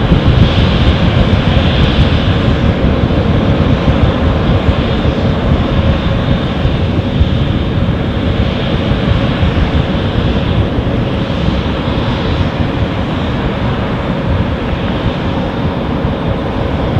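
A Boeing 737 at Dusseldorf airport produces a loud, sustained jet engine roar with broad rushing noise that holds steady throughout, without any voices.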